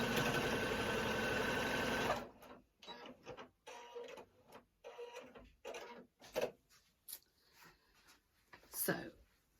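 A sewing machine stitches along a felt snowman for about two seconds, a steady dense mechanical whirr that then stops, followed by quieter handling noises and soft talk.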